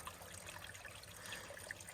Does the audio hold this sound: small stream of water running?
yes